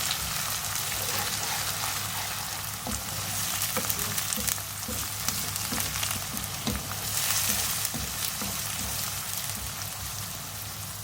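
Onions browned in a pan sizzle and crackle steadily with ginger garlic paste added and stirred in, a continuous close frying hiss with scraping stir sounds and a low steady hum, no talk heard.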